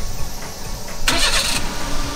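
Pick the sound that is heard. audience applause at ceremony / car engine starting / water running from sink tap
car engine starting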